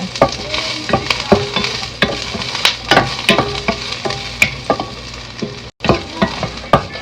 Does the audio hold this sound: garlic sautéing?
yes